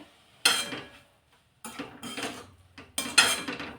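Radish bhaji being stirred in a pan, with a few bursts of spoon scraping and clinking against the metal in separate short passes and quiet gaps between them.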